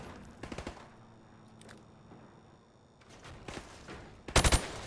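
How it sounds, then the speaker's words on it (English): A rifle fired from the hip in Call of Duty Modern Warfare: a few scattered shots with a loud final burst near the end, separated by quiet background hum. "shoot at the targets while firing from the hip"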